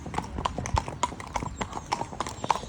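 Horse hooves clip-clopping at a steady walking pace on a main road, crisp and close, with even, regular strikes and light background noise.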